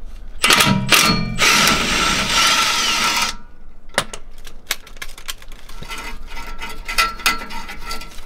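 A 13 mm wrench works an exhaust bolt loose under a Volvo 240 wagon: a few seconds of loud, dense metallic rattling and ratcheting, then scattered sharp clicks and taps nearby.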